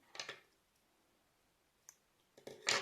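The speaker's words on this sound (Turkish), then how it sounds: "Belirli bir uzunlukta ipimi keseceğim arkadaşlar şimdi." Scissors snip through embroidery thread for needle lace, a couple of quiet, sharp clicks near the start and a louder snip at the end, with near silence between.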